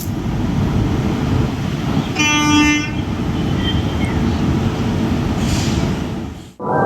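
A WAP7 electric locomotive hauling the Chennai–Thiruvananthapuram weekly superfast train rumbles steadily past, close by. One horn blast sounds partway through and a fainter toot follows later.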